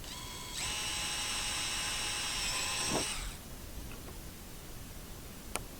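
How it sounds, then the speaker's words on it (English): A power drill whirs steadily for a few seconds drilling rivet holes in a waste bin lid, then stops, followed by a few faint clicks and a sharp tap. "And start by just drilling our holes."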